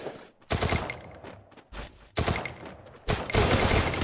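Rapid automatic gunfire bursts ring out in a Free Fire match, three loud volleys separated by brief quieter gaps, sharp and close.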